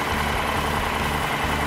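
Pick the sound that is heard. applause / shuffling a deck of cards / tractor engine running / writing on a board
tractor engine running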